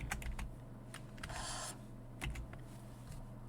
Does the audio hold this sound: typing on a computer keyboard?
yes